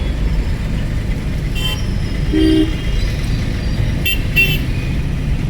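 A single short car horn toot sounds once over steady road and engine noise in traffic during a driving lesson, moderately loud and fairly close.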